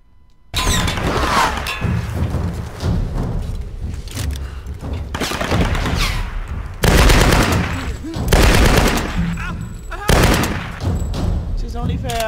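Assault rifle fire in the video game Tomb Raider (2013), with loud dense bursts of automatic gunfire and heavy impacts repeating through the scene with short pauses between volleys.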